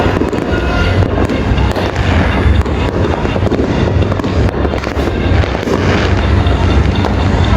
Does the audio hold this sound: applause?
no